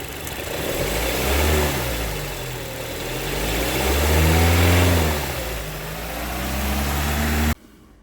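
A Maruti Ciaz Delta sedan's engine is revved with the accelerator, rising and falling in two or three swells of pitch over a steady idle, loud and close with no talk.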